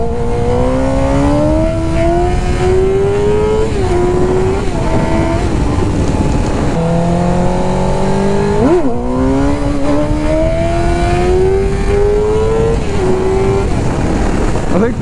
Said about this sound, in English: I am not smooth on the throttle in first gear at all